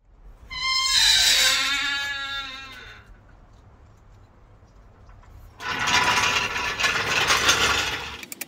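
A Honda Accord is lowered on a car jack, with a close squealing mechanical creak and ratcheting at first, a quiet pause, then a longer grinding release as the car comes down.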